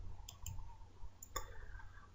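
Computer mouse clicks while working in Microsoft Word, a few faint, sharp, isolated clicks in a quiet room with a low hum underneath.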